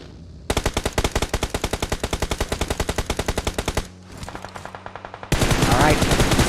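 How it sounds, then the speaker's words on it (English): Rapid automatic gunfire rattles out in a long, even burst during a PUBG Mobile duo tournament final, then comes a short break, a few scattered shots and a dense, loud blast at the end. "see Faith of Lycan firing downward at members of Semper Fidelis"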